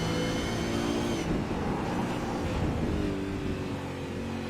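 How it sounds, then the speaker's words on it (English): V8 Supercar engine in a sim racing game revving hard and continuously at high rpm at Road Atlanta, with the pitch shifting as it brakes into and powers through a corner, loud and up close. "Trail braking through that corner by the sound of his engine."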